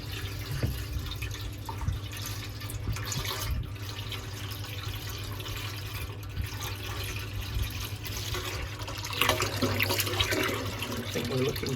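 Boiled beer wort for a traditional English-style IPA pouring into a fermenter, a continuous close trickling and splashing of liquid that swells louder near the end.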